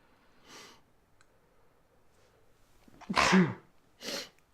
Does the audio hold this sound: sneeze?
yes